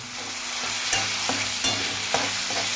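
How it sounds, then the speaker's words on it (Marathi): Tomatoes, onion and garlic fry in a pan, with a steady sizzle and several stirring scrapes at roughly half-second to one-second intervals. "आता आपण याच्यामध्ये टॅमॅटो टाकून घेऊ."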